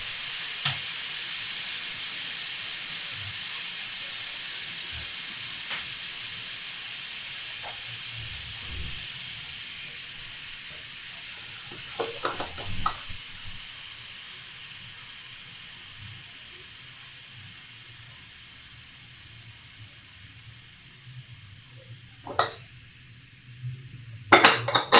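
A pressure cooker with vegetables for homemade pav bhaji lets off a broad, steady steam hiss that slowly fades over the clip, with a few scattered clicks and knocks near the end.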